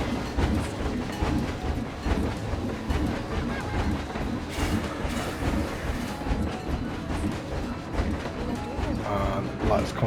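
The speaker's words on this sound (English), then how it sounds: "I want to see a train come past us." A roller coaster train in the video game Planet Coaster rumbles past up close, a loud, continuous rattling clatter of wheels on track lasting throughout, with someone talking over it.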